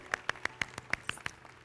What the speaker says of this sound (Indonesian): Berikan tepuk tangan buat firman Tuhan yang akan kita dengar